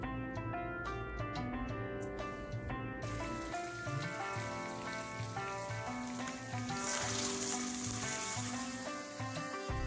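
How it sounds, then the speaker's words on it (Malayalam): Pappadam crackles and sizzles in hot oil, a continuous dense frying hiss with soft clinks early on that swells brighter near the end, close and alone. "പിന്നെ ഇതാ കുറച്ച് പപ്പടം ഒന്ന് പൊരിച്ചെടുക്കുന്നുണ്ട്"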